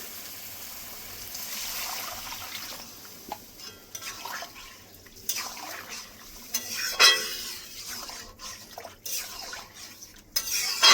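Water poured into a pan of potatoes and spices for a curry with fish roe, a splashing and stirring clatter under sizzling, with scraping utensil knocks and short bursts that rise and fall throughout.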